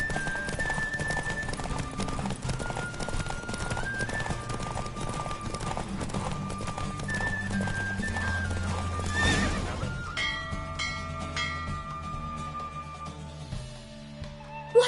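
Horse hooves pound at a fast gallop with repeated neighs during a race in The Witcher 3, set against steady game music; the music thins out near the end.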